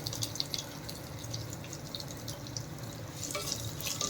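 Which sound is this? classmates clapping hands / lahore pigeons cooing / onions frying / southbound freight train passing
onions frying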